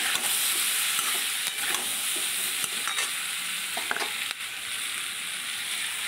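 Vegetables stirred in a hot pan with salt, turmeric and green chilies, a steady sizzle of frying under repeated scraping strokes of a spatula, close and continuous with no talk.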